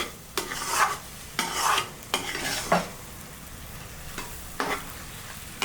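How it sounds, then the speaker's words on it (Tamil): A spoon stirs and scrapes beaten egg frying with cauliflower in a pan for an egg podimas, giving several close, distinct stirring strokes over a soft, steady sizzle, with no talking. "முட்டையை நம்ம எப்போ கலரும் போது இந்த மாதிரி நடுவில் கலர்னா தான் அடி பிடிக்காது."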